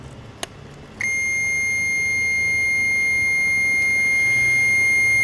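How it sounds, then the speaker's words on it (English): A steady high-pitched electronic beep switches on after a brief click and holds continuously, loud and close, over faint background hiss. "Whenever I touch the leads together, it beeps and gives me continuity readings."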